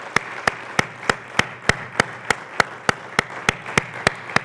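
A church congregation claps in unison during a Spanish-language sermon about Israel, producing loud, crisp, evenly spaced claps about three per second over a soft background murmur.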